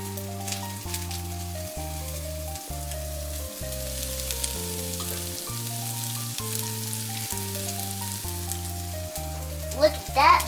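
Butter melts and fries in a pan while a child stirs it, with a steady crackling sizzle running under a background of stepped musical tones, plus a few louder scraping clinks toward the end.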